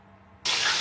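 Sliced onions, about 450 to 500 grams, drop into hot oil with cloves and green chillies for chicken dum biryani, a quiet lead-in giving way abruptly to a loud, steady sizzle.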